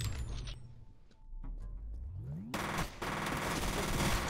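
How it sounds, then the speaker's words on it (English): Rapid machine-gun fire and gunshots from the first-person shooter F.E.A.R., with dense bursts of automatic fire, a rising mechanical whine, then a sustained loud volley of shots filling the last half. "They got some great shooting effects in this game."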